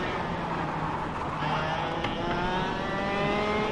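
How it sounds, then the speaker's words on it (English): Go-kart engine in the racing game KartKraft holding a steady high-pitched buzz as it hits the rev limiter, with rapid stuttering pulses, loud and continuous throughout. "The rev limiter kicking in."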